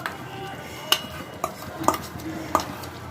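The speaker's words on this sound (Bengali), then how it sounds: "আর গুড়টা দিয়েও তেঁতুলটা ভালো করে মিশিয়ে নেব" A spoon stirring tamarind pickle with sugarcane jaggery in a pot, with a few sharp clinks against the pot over low scraping and mixing.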